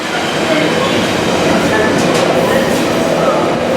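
A long freight train rumbles steadily past close by, a continuous rolling roar with faint rail noise throughout and no break in the sound.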